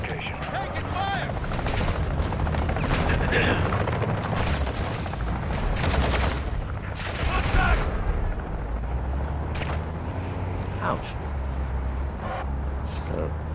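Gunfire in Call of Duty MW2 during a multiplayer firefight: dense bursts of automatic fire and sharp shots, loud and near, with booms and game radio voices mixed in throughout.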